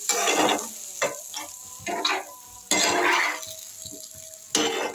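Fish pieces go into a pan of simmering water and spiced curry, giving bursts of bubbling sizzle and stirring scrapes in separate surges with short quieter gaps, close by and without speech.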